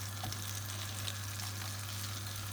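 Rice frying in a hot pan for Chinese chicken curry, a continuous dense sizzle with faint stirring scrapes, close and steady, no voices.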